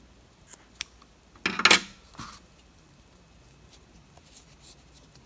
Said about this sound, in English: So now, we will cut it, leave a tail,